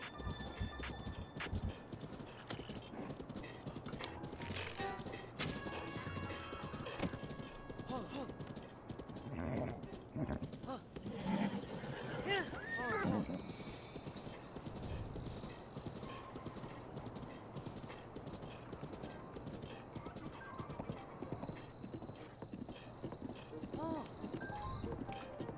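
Horse hooves clip-clop at a gallop in the video game Breath of the Wild, a steady rapid patter running throughout, mixed with other in-game sounds and a few brief higher tones.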